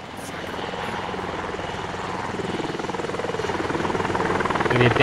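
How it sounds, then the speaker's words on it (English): Helicopter in a video game rotary-wing flight training course, a steady loud rotor and turbine drone that swells slightly toward the end, filling the whole clip with no talk. "Really kicking the helicopter around here, trying to maintain my forward speed"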